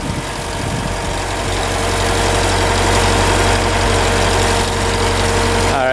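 Skid steer diesel engine idling steadily after being jump-started on a dead battery, a close, continuous low rumble with a constant vibrating drone and no talking.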